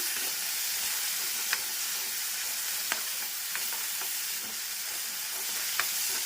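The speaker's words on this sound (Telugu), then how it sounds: "టమాటాలు వేసేసుకున్నాక ఇలా ఫ్రై చేసుకోవాలి." Onions and tomatoes fry in a kadai for a Telugu okra curry, a steady loud sizzle with a few sharp crackles and pops scattered throughout.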